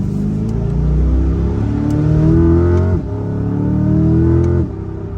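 Chevrolet Corvette C8 Z51 with the LT2 V8, revving loud and close: two rising pulls, each climbing steadily and dropping sharply, the second cut off short, with no talk over it.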